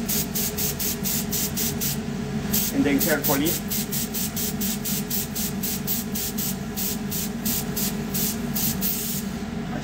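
Badger 250 airbrush spraying chocolate onto an Easter chocolate mold, a close hissing spray in rapid short bursts that repeat across the clip while someone speaks briefly.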